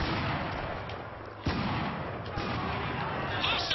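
Gunfire in the shooter Spec Ops: The Line aimed at snipers on rooftops, a steady stream of muffled shots and booms with a sharper burst midway, heard under game noise at moderate level.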